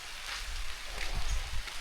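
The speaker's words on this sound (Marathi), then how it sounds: "नेमका पावसाला सुरुवात झाली मस्तपैकी." Sudden afternoon rain in an Indian village begins pattering on surfaces, a soft, dense hiss with scattered drop impacts and low thuds, fairly quiet and with no voices.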